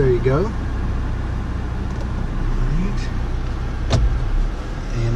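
A 2014 Honda CR-V engine idling after start-up, a steady low rumble under a voice heard close, with a brief click partway through.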